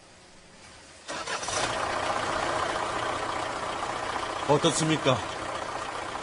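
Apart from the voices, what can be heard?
Kia Bongo Coach engine starting and idling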